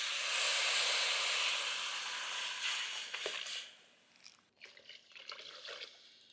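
Tamarind and chilli powder mixture poured into a hot pan for a crab kuzhambu, giving a loud steamy hiss and sizzle at first that fades into softer dripping and bubbling with scattered small clicks.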